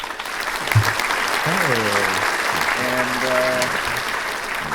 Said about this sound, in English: It's the applause from Tim and Eric, basically.